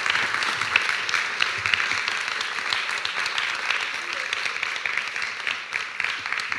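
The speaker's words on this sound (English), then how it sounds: "let's give a big applause to our members" Steady, dense applause from a conference audience at the ALL DIGITAL Summit 2022 in Prague, with many hands clapping at an even level for the whole stretch and no pauses.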